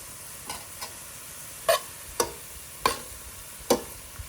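Cabbage with coriander and salt being stirred in a pan for a cabbage palya side dish, heard as six separate scraping strokes, the later ones louder and sharper, over a quiet background hiss.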